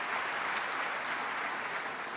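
Audience applause at the 30th Afreximbank Annual Meetings: dense, steady clapping from a large crowd fills the whole stretch at even loudness, with no pause or break.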